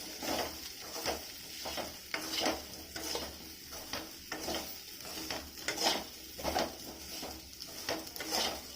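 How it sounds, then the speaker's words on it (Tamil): Tapioca root being stir-fried with masala and salt in a pan for a street-food style dish, with steady scraping and stirring strokes and a light sizzle, repeated rhythmically throughout, close and moderately loud, with no talking. "நல்லா மசாலா உப்பெல்லாம் கிழங்குல ஒட்டுற அளவுக்கு திரட்டி விட்டு எடுத்துடலாம்."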